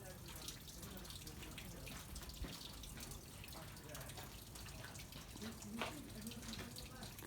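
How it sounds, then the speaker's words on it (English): Water flows continuously on an estate near Calke Abbey, a faint steady splashing wash heard alone without talk. "But just listen to the water, it's so calming."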